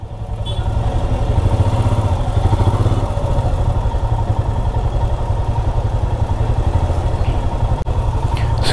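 Two motorcycles idle side by side at a toll point, a loud, steady low rumble with a slight clattering pulse that runs throughout.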